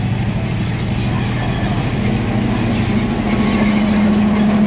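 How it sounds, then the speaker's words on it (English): Train arriving from Badulla rolling across Nine Arches Bridge near Ella, Sri Lanka, a steady heavy rumble with droning engine tones that swell gradually louder as it approaches, no voices over it. "This is a train coming from Badulla."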